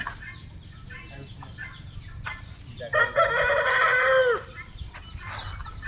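A breeding rooster in a backyard poultry yard crows once loudly and close, surrounded by scattered low clucks from hens over a steady background murmur.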